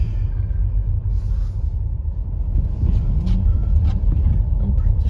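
A car in four-wheel drive moving along a snowy road during a Calgary snowstorm, giving a steady, low rumble of engine and tires from inside the cabin.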